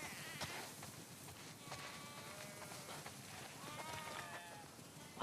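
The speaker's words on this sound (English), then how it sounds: "Wow, that's a lot of sheep." Many sheep bleat in a farm scene in the video game The Last of Us Part II Remastered, overlapping calls rising from a steady ambient bed, some near and some farther off, with no talking.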